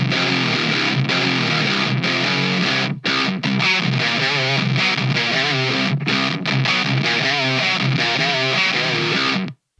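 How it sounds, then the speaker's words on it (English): Heavily distorted electric guitar with a high-end EQ boost placed after the amplifier, playing a dense, continuous riff with a bright, harsh top and loose low end, loud and alone with no talking. "I'm just gonna copy these settings and throw them after the amplifier and turn this EQ off"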